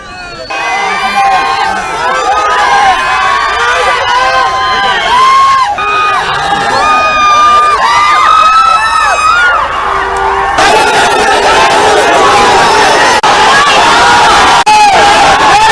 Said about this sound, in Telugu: జై జగన్ నినాదాలతో దద్దరిల్లింది.